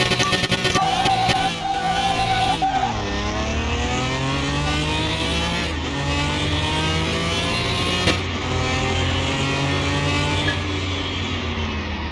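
A supercharged car races in Car Mechanic Simulator 2021, its engine loud and close, revving up through gears in repeated rising sweeps with brief drops at the shifts.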